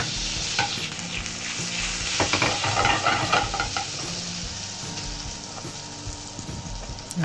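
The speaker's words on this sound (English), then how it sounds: "I saute our garlic." Garlic sautés in a hot pan for a mac and cheese with crispy ham, giving a constant close sizzle broken by scraping stirs and clinks of a utensil against the pan.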